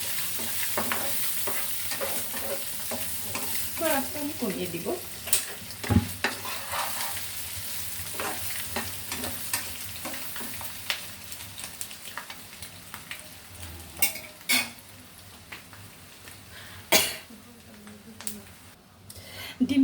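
Egg bhuna with onions being stir-fried in a pan, a steady sizzle broken by repeated scraping strokes of a spatula, with someone speaking briefly over the cooking.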